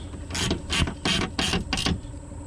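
Screws on the window track of a first-generation Chevrolet S10 pickup are tightened in five quick ratcheting bursts, close and fairly loud with short gaps between them.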